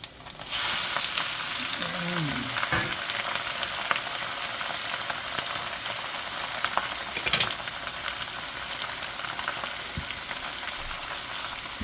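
Squid hits a hot pan for adobo with a sudden loud, dense sizzle that stays steady and crackling, with an occasional utensil knock as it is stirred.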